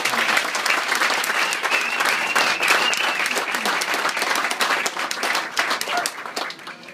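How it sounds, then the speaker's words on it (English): An event audience applauds for first responders and firefighters at a Friends of Firefighters award gathering: steady, dense clapping that fills the room for about seven seconds and then thins slightly at the end. "So just a round of applause for everyone who's given."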